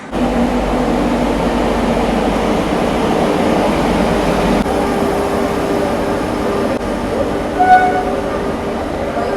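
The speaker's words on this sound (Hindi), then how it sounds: "हावड़ा देहरादून एक्सप्रेस आ चुकी है।" The Howrah Dehradun Express rolls into Dehradun railway station with a continuous heavy rumble of wagons and a short high tone near the end, steady and fairly loud amid platform ambience.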